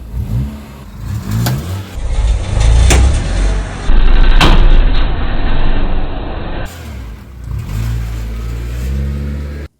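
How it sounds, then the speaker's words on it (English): A Nissan Micra, recently fitted with a repaired drive shaft, is floored in sports mode: a loud, close engine roar surges and climbs through several revving bursts before easing back. "put it in sports mode, put it into drive, and floor it"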